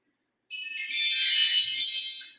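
A workout timer goes off with a steady, high electronic alarm tone that starts abruptly after a brief silence and rings continuously, loud and alone.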